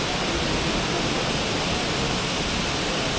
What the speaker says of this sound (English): There's a waterfall here.